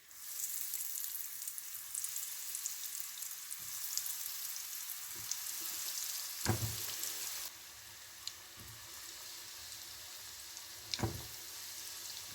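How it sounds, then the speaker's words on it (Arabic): Pizza-flavoured croquettes coated in flour fry in hot oil, giving a continuous bright hiss and crackle that drops slightly partway through, with a few soft clicks. "غادي ندوز دابا نقلي معكم شي وحدين منهم"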